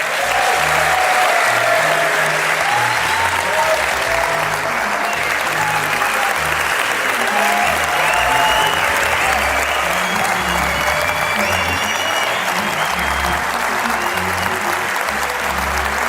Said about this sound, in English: Let's have another continued round of applause for the send-off for Dr.